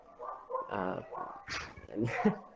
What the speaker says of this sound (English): I can hear a dog, maybe.